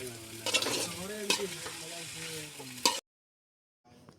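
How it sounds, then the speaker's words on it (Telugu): Cluster beans (guar) sizzle and fry in a pan while being stirred, with scraping clinks of the spoon over a steady sizzle, then sudden silence before a faint return of sizzling. "ఇప్పుడైతే చిక్కుడుకాయలు అయితే బాగా అయితే కలిపెట్టుకున్నాం. బాగా అయితే వేగినాయి."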